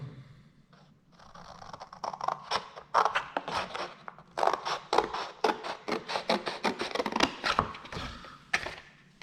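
Scissors snipping through paper to cut out a printed image for a hair clip, a close run of crisp, irregular cuts with short pauses between them.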